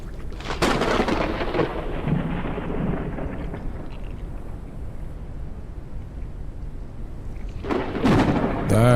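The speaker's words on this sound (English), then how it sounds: "That's a lot of lightning." Thunder from a storm rolls through the video game Forever Skies, with two loud, sharp lightning cracks near the start and end and a long, low rumble with steady rain-like noise between them.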